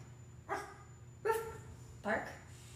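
A parrot imitates a dog, giving three short, harsh bark-like calls spaced evenly less than a second apart, close and moderately loud over a quiet background hum.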